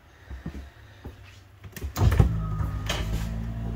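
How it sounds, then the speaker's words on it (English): A motorized TV lift in a Jayco Seismic 4250 toy hauler starts with a few clicks and knocks, then a steady electric motor whir hums on as the screen rises, close and fairly loud. "Hit a button and the TV comes up."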